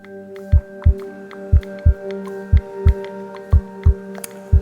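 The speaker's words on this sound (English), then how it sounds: "That's the sound of your heart beating." A heartbeat sound effect pulses in a steady thumping rhythm over a low continuous hum, each beat a deep thud, with no voices.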